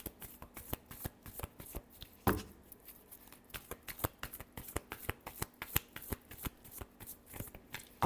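Tarot cards are shuffled close up in a quiet room, with a rapid string of crisp riffling snaps and flutters and one louder slap near the middle.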